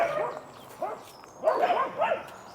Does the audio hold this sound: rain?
no